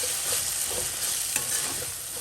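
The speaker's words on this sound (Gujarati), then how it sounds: "સરખી રીતે હલાવી" A spoon stirs a sizzling brinjal bharta in a pan after salt is added, steady frying crackle with soft scraping strokes and one sharper clink near the middle, no talking.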